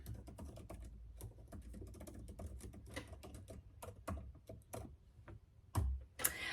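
Close, steady typing on a computer keyboard, with rapid irregular key clicks running throughout and a few louder clacks near the end, and no voice over it.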